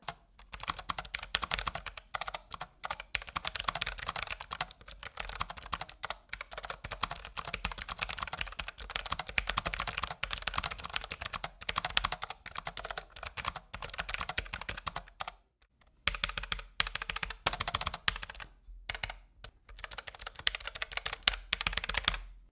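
Steady, fast typing on a Logitech MX Mechanical Mini low-profile mechanical keyboard with soft, muted key clicks, continuous for a long stretch with a couple of brief pauses near the end.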